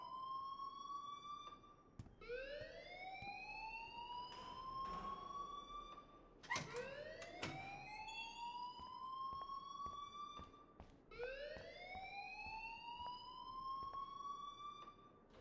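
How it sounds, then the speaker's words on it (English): An alarm rings in the video game Life is Strange, a repeating electronic siren-like tone that sweeps upward in pitch in three long cycles, steady and fairly loud with no voices. "please turn off that alarm since that's your job"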